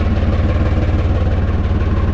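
Volvo Penta 2003 marine diesel aboard a Westerly Centaur sailboat idles with its engine cover off, a loud, close, steady chugging with an even low pulse and no voices.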